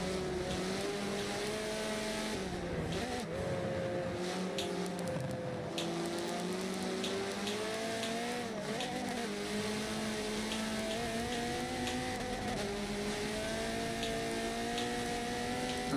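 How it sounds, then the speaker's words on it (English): GT race cars overtaking in a sim racing game at a Silverstone endurance race, several engines droning together with layered, shifting pitches, steady and moderately loud with no talk. "Caught some of it as the GTs were overtaking though."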